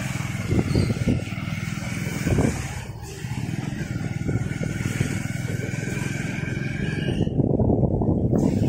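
A motorcycle idles and putters steadily through a flooded street in Behala, Kolkata, a continuous low engine drone up close with a short dip midway, no clear talk.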